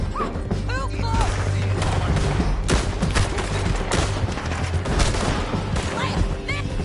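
Chaotic gunfire in a PS4 video game during a canyon rope-bridge fight, with continuous shots, crashes and booms mixed with game voices talking over the action.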